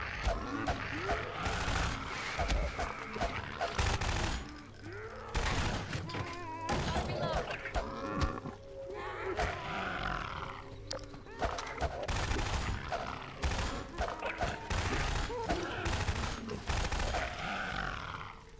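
Gunfire from shooting at zombies in the PC game Half-Life 2, bursts of shots and thuds repeating throughout alongside game grunts and roars, with players talking over much of it.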